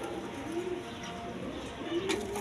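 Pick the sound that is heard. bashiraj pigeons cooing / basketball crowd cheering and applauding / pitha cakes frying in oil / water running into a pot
bashiraj pigeons cooing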